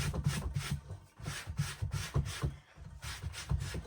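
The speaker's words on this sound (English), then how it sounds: "I'm going to give it a bit of a extra brush there and here" A brush rubbing back and forth over the crown of a felt hat during restoration, a steady series of close, raspy strokes with no talking.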